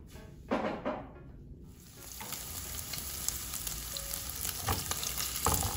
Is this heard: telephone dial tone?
no